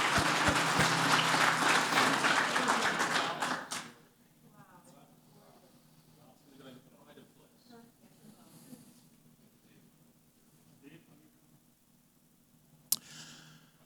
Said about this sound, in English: Again, another round of applause for the students.